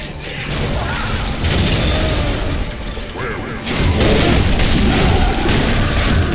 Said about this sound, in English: Oh boy, that's another rocket.